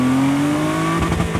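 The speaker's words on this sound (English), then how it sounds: "in manual mode, you can bang off of the rev limiter" A 2023 Audi RS5 Competition engine drones at high revs in manual mode with a steady, slightly rising pitch, then stutters with rapid choppy bursts off the rev limiter near the end, close and loud.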